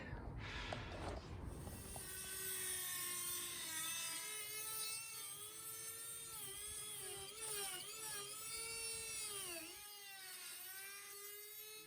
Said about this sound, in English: we're just going to do a little test cut to see how we get on cutting a little section out of this 18 gauge steel here